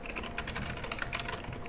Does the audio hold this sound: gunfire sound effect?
no